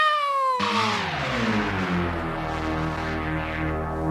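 A long, wailing cat meow, loud and close, sliding downward in pitch and trailing into a drawn-out yowl.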